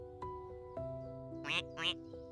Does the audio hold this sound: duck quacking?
yes